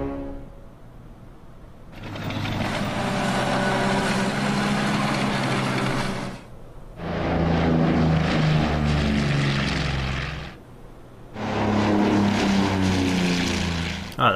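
Bomber aircraft engines from the Winter War strategy game Order of Battle drone in three loud, steady propeller bursts separated by short pauses, with no talk over them.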